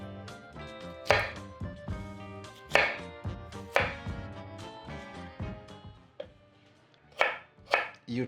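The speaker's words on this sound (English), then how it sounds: "All these, just roughly chop them." A knife roughly chops vegetables including cauliflower and sweet potato on a board. Irregular, crisp thuds and knocks come close and fairly loud, with brief pauses between bursts and no talking.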